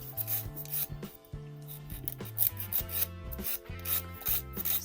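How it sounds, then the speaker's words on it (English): A nail file rubs back and forth in quick, even rasping strokes, close and clear, shaping a small piece, with short pauses between some strokes and no voices. "So I've got my trusty old nail file here. So let's just have a go and file this down."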